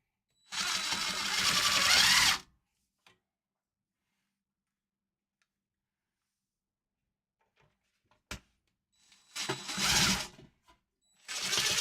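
Cheap screws driven by a power drill to mount speakers inside a toolbox, with two loud whirring bursts at the start and end separated by near-silence with a few faint clicks.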